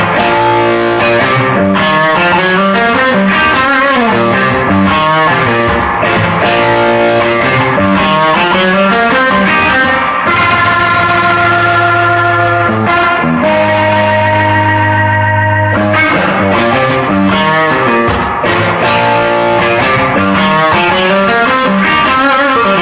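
Electric guitar runs through a Myriad Fuzz pedal, a thick, saturated fuzz tone playing continuous chords and sustained notes at steady loud volume throughout.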